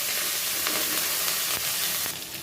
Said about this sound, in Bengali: দেখো সুন্দর করে মশলাটা কষিয়ে নিলাম।